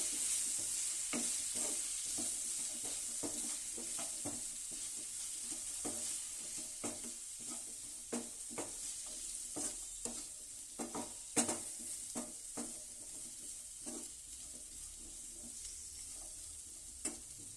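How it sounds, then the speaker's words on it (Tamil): A spiced mixture is stirred in a pan over gentle sizzling, with a spoon scraping and tapping the metal in irregular strokes, close and fairly quiet. "இப்போ இதெல்லாம் சேர்ந்து ஒரு மிக்ஸ் கொடுத்துடலாம்"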